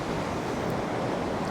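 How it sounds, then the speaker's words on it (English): Ocean waves rolling onto a sandy beach on a rough morning, a steady loud wash of surf blended with gusting wind noise, continuous with no voices. "Ocean is starting to get a little bit rougher"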